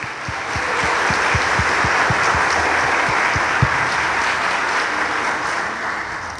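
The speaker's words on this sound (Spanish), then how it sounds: "un aplauso para ella" Sustained, full applause from a church congregation at a Mass for a girl's first communion, a steady wash of many hands clapping throughout, with a few louder individual claps standing out near the front.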